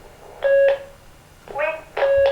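Two pairs of bright electronic tones, each a short two-note chime, sounding loud and close with a pause between them.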